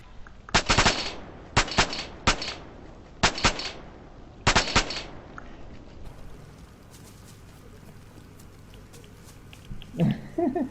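Rapid automatic gunfire in the video game DayZ on PS4, four sharp bursts in quick succession during the first half, followed by quieter in-game ambience and a brief rustle near the end.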